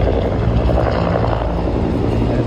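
A 1966 Huey helicopter passes close by as a loud, steady rotor and engine roar filling the whole stretch, with dense low thumping and no talk over it.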